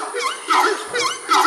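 A horned screamer gives a series of four loud, honking calls in quick succession, each a rising-and-falling bray close to the listener.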